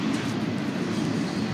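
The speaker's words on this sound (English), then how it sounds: "there's a train going by, and I was on those train tracks" A passing train gives a steady, loud, broadband rumble that holds evenly through the short stretch, with no other sounds on top.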